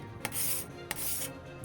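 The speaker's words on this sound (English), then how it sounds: "it's like a blade with like a slight little bevel in it, like a curve, and it kind of scrapes it off" Cabinet scraper with a slightly curved, bevelled blade scraping seams on a 3D printed Halo MK40 Sidekick prop: two close, loud, harsh rasping strokes, each beginning with a sharp catch, separated by a short pause.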